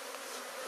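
Honey bees swarm around a beehive frame during hive management, a dense, steady buzzing hum close by with no pauses.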